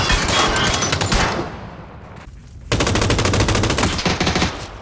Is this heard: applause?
no